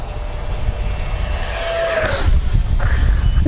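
An FMS Viper 70mm EDF RC jet passes at full throttle on the downwind leg, a loud, steady ducted-fan whine that rises and sweeps in pitch as it flies by outdoors.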